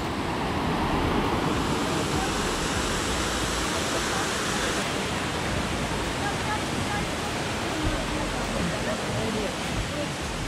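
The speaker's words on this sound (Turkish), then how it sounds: "Şelaledeyiz." A waterfall in the Yedigöller area of Bolu, fed by a forest stream, roars as a steady, loud, broadband rush of falling water that fills the whole clip without letting up.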